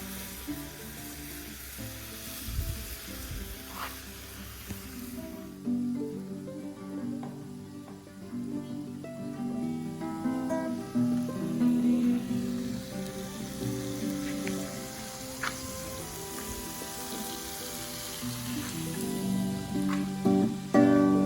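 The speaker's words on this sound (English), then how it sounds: "You literally just roll them over in the coating, throw them in the pan" Coated striped bass pieces frying in hot oil in a pan, a constant crackling sizzle that swells louder after a few seconds, with scattered clinks and pops and no talk.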